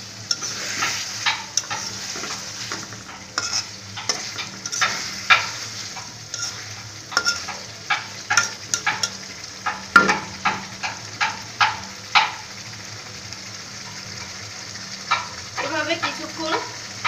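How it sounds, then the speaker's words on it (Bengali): Pieces of hilsa fish fry in a pan while a spatula stirs and taps them, making a steady sizzle broken by sharp clicks and scrapes, close up, with someone speaking briefly. "এবার আমি একটু মাছগুলো ভালোভাবে একটু টুকটুক করে দেবো।"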